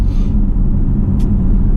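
A 2018 Porsche Panamera 4 Sport Turismo's 2.9 V6 engine gives a short, close, deep rumbling rev that stays fairly even and loud, with no voices.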